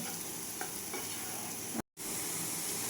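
Semolina pulao with vegetables stirred in a pan, a soft continuous sizzle with light scraping strokes, broken by a brief moment of silence near the end.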